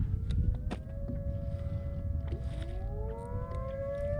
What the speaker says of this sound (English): Testing the tornado sirens.